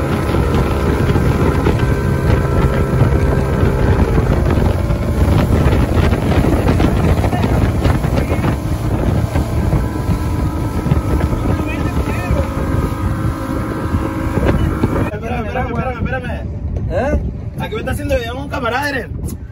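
A panga motorboat ride off a beach, with a steady loud engine drone and heavy wind buffeting the microphone throughout, and people talking over the noise.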